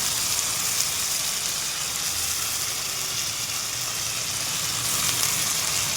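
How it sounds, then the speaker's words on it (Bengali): Rice and potatoes frying together in a pan for a fish-head ghonto, a dense, even hiss of close sizzling that runs continuously without a break or any voices. "চালটা দিয়ে দিলাম, আবার আরেকটু আলুগুলি ভাজবো। চালটাও একটু ভাজা হবে"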